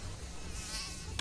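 A mosquito buzzes in a continuous high, thin whine for a moment, close and steady, alone without any voices, in a television spot for Mortein 2-in-1 mosquito protection.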